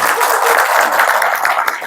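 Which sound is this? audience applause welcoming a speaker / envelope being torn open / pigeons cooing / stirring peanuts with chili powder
audience applause welcoming a speaker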